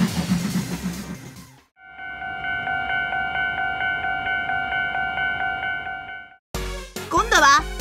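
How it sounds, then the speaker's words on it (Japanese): A Tomica and Plarail toy crossing set in steam-locomotive mode plays an electronic running sound: a steady rhythmic chuffing under a sustained whistle-like tone, set between short bursts of bright electronic chimes. "蒸気機関車の走る音に変わったね"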